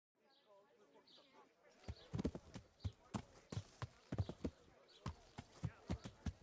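Horse hooves clip-clop on the ground in the video game Kingdom Come Deliverance, a steady, fairly close gait over faint background voices and ambience.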